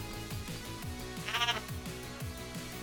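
Goat bleat from the game Team Sonic Racing, one short wavering call over busy, looping game music with a steady beat.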